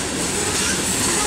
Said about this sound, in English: We got a train on the tracks at West St. Anthony Avenue in Effingham, Illinois.